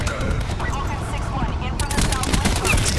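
Rapid automatic gunfire bursts from a Call of Duty multiplayer match, loud and dense, layered with game effects, while a voice talks over the shooting.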